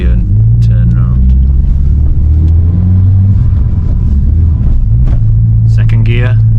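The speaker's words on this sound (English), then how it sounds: "It's a bumpy road, but the suspension is actually handling the bumps quite well." An Audi TT drives slowly over a bumpy unsurfaced road, a heavy low engine drone and rumble from inside the cabin with thuds over bumps, while someone talks over it.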